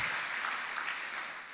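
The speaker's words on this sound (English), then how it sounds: "Can we give him a round of applause?" At a business conference, an audience applauds a chairman for membership. The clapping is brief and fairly soft, a steady even wash of many hands with no talk over it.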